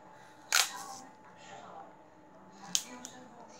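Scissors snip through clear adhesive tape in two short, crisp cuts about two seconds apart, close and fairly loud over a quiet room.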